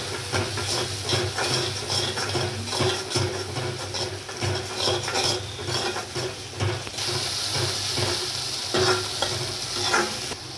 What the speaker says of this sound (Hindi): अब इसको अच्छे से मिक्स करके मसाले को भून लेंगे अच्छे से।